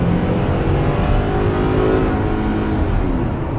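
Ford Transit 350 cargo van accelerating while merging, its engine note a steady loud rumbling roar heard from inside the cab, rising slightly in pitch, with no talking.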